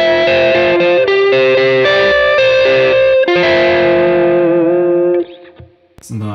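An electric guitar runs through a chorus effect on a compact worship pedalboard, bright sustained chords and single notes ringing with a shimmering, wavering tone, loud and close before the notes cut off.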